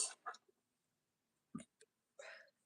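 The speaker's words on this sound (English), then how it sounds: "Oh, I keep burping." A man burps several times in short, close bursts with pauses between them, the later ones longer and throatier, and there is no talking.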